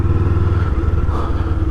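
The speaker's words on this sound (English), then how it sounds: "blipping the throttle" An MT-07 motorcycle engine runs loud and close in 20-degree cold, with the throttle blipped in a steady, rumbling idle without clear rises in pitch.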